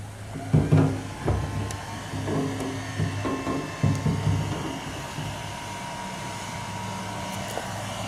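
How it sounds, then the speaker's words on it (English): A hair dryer blows steadily into an old car's gas tank to dry it, with a few clunks and knocks near the start and midway, the blowing continuing on its own afterward. "I'm going to use my wife's hair dryer, get the inside of this gas tank dried"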